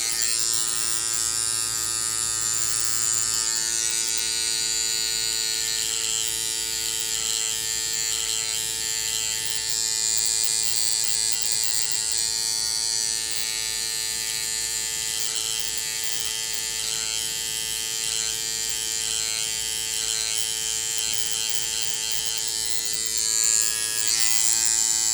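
Gold electric hair clippers trim facial hair in a steady, continuous close-up buzz lasting the whole stretch, with a bright high whine and faint shifts as the blades move across the skin; no one speaks.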